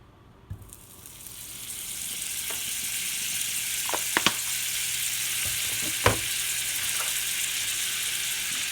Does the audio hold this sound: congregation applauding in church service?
no